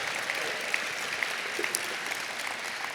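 Audience applauding student leaders and award winners at a Paul Robeson Cultural Center 50th anniversary celebration, a sustained even round of clapping from a crowd.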